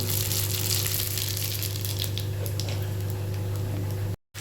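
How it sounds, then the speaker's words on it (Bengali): Vegetables for Bengali shukto hit hot oil spiced with radhuni, bringing a loud, steady sizzle and crackle close by over a low hum, cut off abruptly just before the end. "দেখো সব সবজিগুলো আবার ঢেলে দিলাম।"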